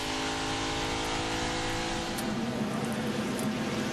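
A NASCAR race car's engine roaring at speed on an oval during the 2008 Dollar General 300, a loud sustained buzzing drone as the driver gets back on the throttle, with no talk over it.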